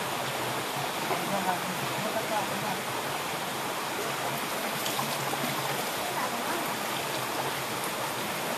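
Water from a stream rushes steadily over rocks in a continuous, hissing broadband wash, with faint splashes and voices nearly buried underneath.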